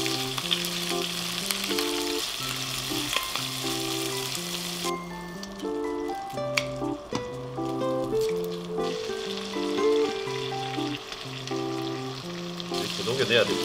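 Shrimp shells fry in oil for gambas al ajillo, a continuous soft sizzle with occasional stirring clicks under a steady musical tone.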